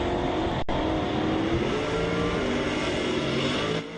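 Drag racing cars, a Mustang and an AMC, rumble and idle loudly on the starting line at a bracket ET finals meet, a continuous dense engine drone with a momentary gap and a fade near the end, with no talking.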